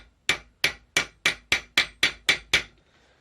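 A hammer strikes a punch to form a hexagonal hole: nine crisp, evenly spaced metallic blows about a third of a second apart, loud and close, then a brief ringing fade into quiet.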